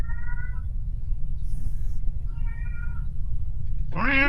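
A cat meows several times, with short harmonic calls early and midway and a louder, rising meow at the end, all over a steady low background hum.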